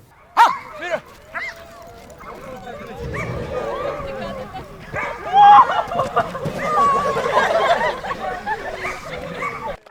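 National Guard service dogs barking and yipping during a training demonstration for schoolchildren, with sharp close barks near the start and whimpering yelps later, under a murmur of voices and chatter.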